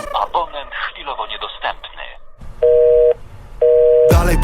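Two telephone busy-signal beeps sound clearly after rapped vocals in a Polish rap track, each a steady electronic tone lasting about half a second with a pause between, as though the subscriber's phone is in airplane mode.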